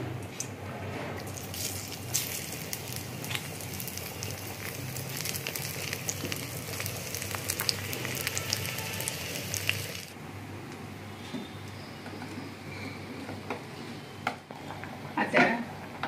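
Garlic sizzling in oil in a pan on a gas stove for Konkani-style beeye koddel, a steady close crackle and hiss that eases slightly partway through, with brief clatters near the end.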